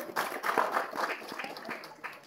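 Outdoor crowd at Shivneri fort applauding parents who brought their young children, a scattered wash of clapping hands that stays moderately quiet and steady.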